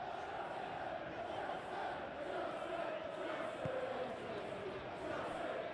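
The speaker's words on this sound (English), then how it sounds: "Crowd appreciates good football all round there." A large stadium crowd at a Premier League football match between Chelsea and Manchester City, a steady dense roar of voices and cheering sustained throughout with no pause.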